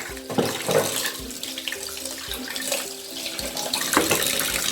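Water runs steadily from a tap over a new stone grinder being washed, with splashing and scrubbing knocks, a continuous near rush with no voices.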